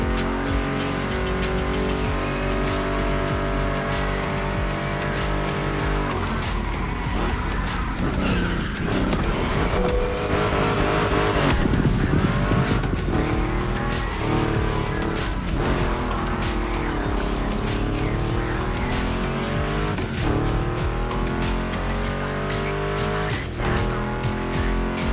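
A Ford Mustang GT muscle car drives in The Crew Motorfest, its engine holding a steady tone that rises and falls, with occasional tire squeal, beneath background music throughout.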